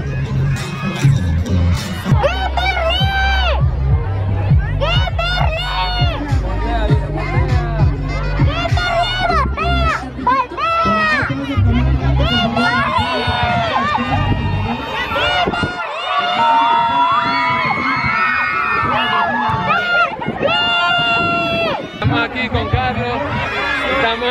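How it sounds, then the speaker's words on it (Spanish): A dense crowd of people shouts and chants while pressed together in a queue, loud and continuous, with excited voices and cheers overlapping throughout. "toda la gente están gritando fila, fila"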